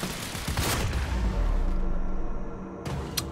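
Bursts of rapid gunfire in the shooter game Quantum Break, several overlapping shots and a booming impact, then a brief lull before another sharp report.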